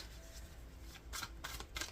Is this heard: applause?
no